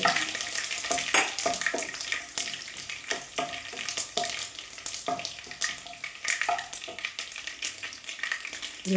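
Cut dried red chillies frying in oil in a pan for a ginger curry: a quiet crackling sizzle with frequent sharp scraping strokes of a spoon stirring, close and steady.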